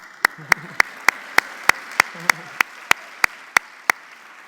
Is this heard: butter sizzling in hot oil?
no